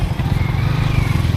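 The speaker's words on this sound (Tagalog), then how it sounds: "Pwede na ipark ang motor dito." A motorcycle engine idles with a low, steady, sputtering rumble, close by and alone, as the motorcycle is parked.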